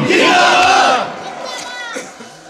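A large crowd at an Islamic religious sermon gathering shouts 'Allahu Akbar' in unison in response to the call; a loud, close massed roar lasts about a second, then falls away into lingering crowd murmur.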